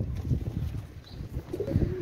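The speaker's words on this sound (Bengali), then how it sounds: "অনেক সুন্দর কবুতর" An Oman Teddy pigeon gives a soft, low coo, close and quiet over a faint background murmur, lasting about two seconds.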